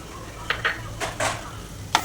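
Bitter gourd fry being stirred in an oily pan, a few scraping strokes of a spoon against the metal spaced over about two seconds, with a low sizzle underneath.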